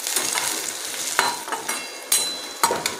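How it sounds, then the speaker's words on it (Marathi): Chopped onions fry in a pan for upma, a steady close sizzle broken by several sharp scraping stirs, with no voices. "कांद्यांना आपल्याला जास्त असं लाल होऊ द्यायचं नाही आहे, थोडासा असं गोल्डन कलर येईपर्यंत होऊ द्यायचा आहे"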